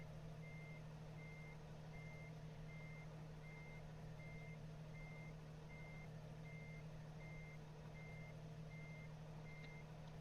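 Truck reversing alarm in American Truck Simulator on a Mexico map, hauling a short trailer: a steady, evenly spaced electronic beep repeats over a constant low engine idle hum throughout, with no talking.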